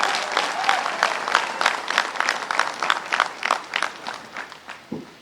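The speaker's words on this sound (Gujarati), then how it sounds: "એટલે પત્રકાર મિત્રો માટે તાળીઓ થઈ જાય" An audience claps for journalists at a political gathering, a fairly close burst of applause that thins into a handful of separate claps before fading out.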